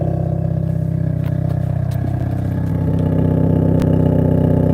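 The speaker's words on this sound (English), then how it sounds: "Here's what the exhaust sounds like." The exhaust of a 2022 Hyundai Kona N idles with a steady, deep burbling drone, loud and close, with a few faint clicks but no talking.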